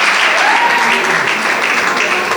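An audience at a graduation ceremony bursts into steady, dense clapping, a close and loud wash of many hands that continues evenly throughout the short stretch.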